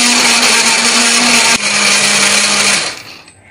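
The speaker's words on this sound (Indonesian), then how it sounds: "di sini biar lebih gampang untuk menghaluskan pakai blender, cabenya akan kita potek-potek lebih dulu" A kitchen blender grinds chopped chili peppers with a little water or oil, a loud steady whirring hum that cuts off near the end.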